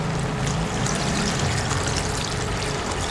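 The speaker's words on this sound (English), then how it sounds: "And then you can add water 500 milliliter." Water streams steadily into a pot for Korean rice cakes, a close, continuous splashing pour lasting a few seconds with no talking.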